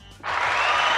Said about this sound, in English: That's a clap for Rocket